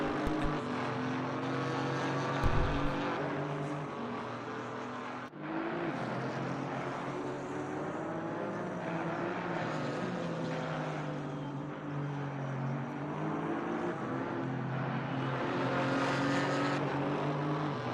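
GT4 race cars, BMW and Porsche, circulate at Zolder circuit with a steady engine roar throughout, engine notes rising and falling through gear changes and a chicane, with no talk.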